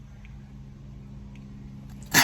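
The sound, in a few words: sneeze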